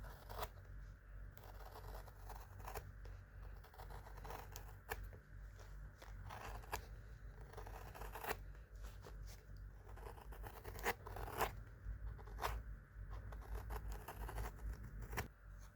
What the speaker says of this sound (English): And I'm going to trim again to the sole.